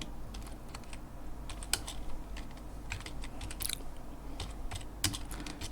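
Computer keyboard typing, a run of light irregular clicks and taps at moderate distance over a faint steady room hum, with no talking.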